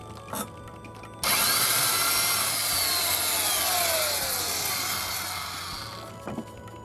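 A power drill bores into wood for a homemade skate curb, a steady high whine that starts abruptly, holds for about five seconds with slowly shifting pitch, then stops.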